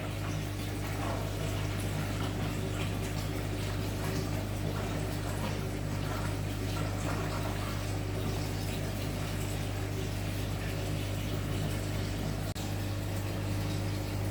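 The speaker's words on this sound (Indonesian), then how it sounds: "Wah, semburannya kuat." A steady, dense rush of water from a strong pump jet in an arowana aquarium, with a low mechanical hum beneath, loud and unbroken throughout.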